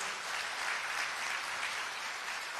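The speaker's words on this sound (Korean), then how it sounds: "박수 좀 크게 쳐주십시오" Steady, dense applause from an audience at a Democratic Party of Korea workshop for newly elected 22nd National Assembly members, a loud continuous wash of clapping filling the whole moment without pause.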